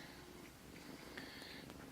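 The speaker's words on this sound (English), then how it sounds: "That's a lot of purring going on." A cat purrs softly and continuously, very close but faint, a low steady rumble with no talking.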